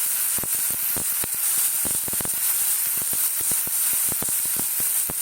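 Ginger, garlic and green chilli paste sizzles steadily in a hot pan as a potato curry for mughlai paratha is cooked, a continuous bright frying hiss dotted with sharp pops and crackles throughout, close and fairly loud with no talking.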